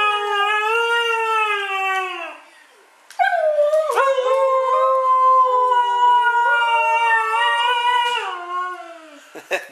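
Dogs howling loudly and close, long wavering tones that rise and fall, one pausing briefly before the howls resume and overlap.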